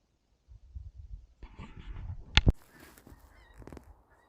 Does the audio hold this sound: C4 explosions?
no